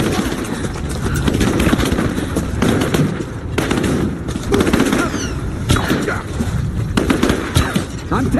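Gunfire in the video game Rise of the Tomb Raider: dense, continuous bursts of shots and impacts run through the whole stretch, with voices calling out amid the chaos.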